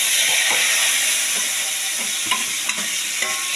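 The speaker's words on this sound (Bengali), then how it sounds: "এবার আমি তেলের মধ্যে এই মশলাটা ছেড়ে দেবো।" Spice paste for a fish curry fries in hot oil with a loud, steady hissing sizzle, broken by a few soft stirring knocks toward the end.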